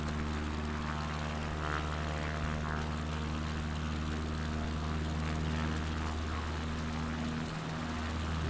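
Steady propeller aircraft engine drone from a plane in Microsoft Flight Simulator, a loud continuous hum with strong low tonal harmonics, unbroken and without talk.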